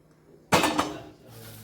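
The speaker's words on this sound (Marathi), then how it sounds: "तर आता आपण कढई ठेवून घ्यायची" A metal kadhai, a deep wok, is set down on a lit gas stove with a single sharp clank followed by a brief ringing rattle. The surroundings are quiet and there is no speech.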